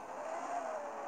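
Race car in a drag racing video game, its engine holding a steady, rising whine that sounds faint and continuous, with no voices.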